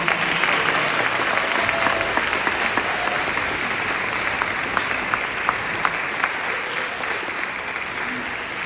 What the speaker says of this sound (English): So I think a round of applause for them.